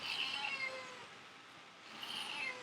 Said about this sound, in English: she actually meows a lot